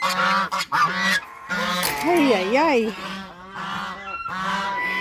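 Geese being herded into their shelter for the night honk loudly and repeatedly at close range, with a person calling out briefly among the calls.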